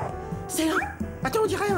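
A cartoon dog adrift on the ocean gives short, yelping barks and whimpers, heard briefly under animated voices talking over it.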